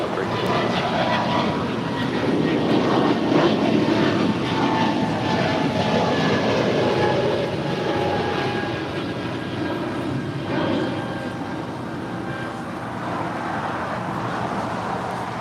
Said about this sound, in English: That was Air Canada 573 departing to Calgary. It's an A220-300.